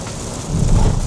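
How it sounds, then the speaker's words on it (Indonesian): Heavy rain drums around a Mitsubishi Xpander during a test drive, a dense hiss on the car with a deeper rumble swelling midway, no talk. "Aduh, hujannya makin gede."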